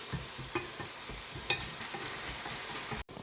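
Onions fry in a pan for a Moroccan tajine, giving a steady close sizzle with a few scraping stirs and small clatters. There is no talk.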